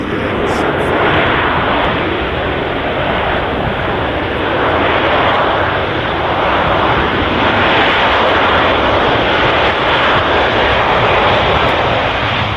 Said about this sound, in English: As the Aer Lingus vacates the runway in front of us